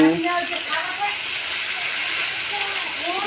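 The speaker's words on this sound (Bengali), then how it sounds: "আলু কষানো হচ্ছে।" Potatoes and soybean chunks sautéing in a pan for a soybean-potato curry give off a steady close sizzle and frying hiss, with a voice talking over it.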